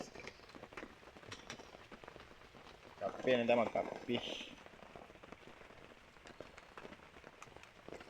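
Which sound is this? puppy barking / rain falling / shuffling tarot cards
rain falling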